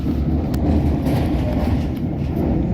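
Interior rumble of a London Underground Metropolitan Line S8 Stock train running near Moorgate, a loud, continuous low roar with faint rail clatter and occasional brief squeals.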